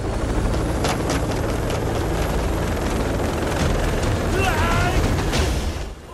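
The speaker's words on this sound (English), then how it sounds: "From the roof, jump to the helicopter." Loud, continuous helicopter rotor and engine roar near a rooftop during a film stunt, a dense steady wash of noise with faint thumping pulses and a brief whistle-like tone near the end.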